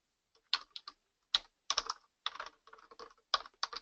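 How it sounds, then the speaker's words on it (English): Typing on a computer keyboard, close and clear key clicks in short irregular bursts with brief pauses between them, nothing else heard. "I'm going to type this in"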